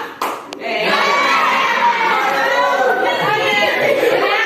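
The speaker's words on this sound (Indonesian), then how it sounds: "Tepuk siang, tepuk malam." Schoolchildren in a classroom perform the 'tepuk siang, tepuk malam' clapping chant, a couple of sharp claps and then a loud mass of young voices chanting and shouting together, close and continuous.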